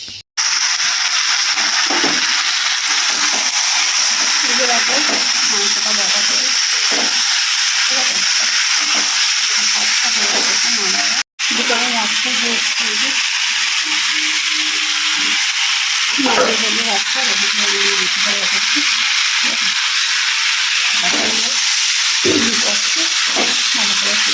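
Meat sizzles in a hot pan as it is stirred, with a loud, steady frying hiss throughout and a voice faintly underneath.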